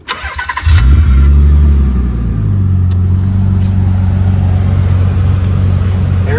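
A 1995 Nissan 300ZX convertible cranks briefly, fires and rises to a loud rev before settling into a steady, close, rumbling idle with no talking.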